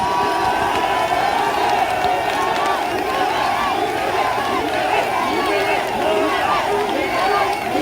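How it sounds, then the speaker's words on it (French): A dense crowd at a Paris political rally for a Cameroonian opposition figure cheers and shouts continuously, a loud steady roar of voices and clapping that runs the full length without a break. "Applaudissez encore plus fort pour lui."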